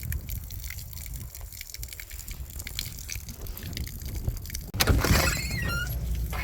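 Steady rain hiss with rushing, gushing water, growing louder and wetter about two-thirds through, with occasional drips and splashes close by.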